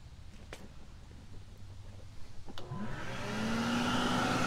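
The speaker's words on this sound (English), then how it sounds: "that's just hooked up to a shop vac at the moment on the back side to run the blower" A shop vac switches on and spins up to a steady roaring whoosh, blowing air into a brake drum forge after a few clicks and light handling noises; the drone stays loud and close.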